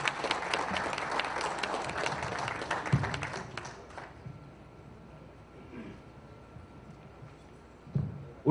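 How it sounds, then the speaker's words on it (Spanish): Audience applause for the panelists at a panel event, a dense wash of clapping for about four seconds that then thins and fades to scattered claps and room noise. "Un aplauso para los panelistas."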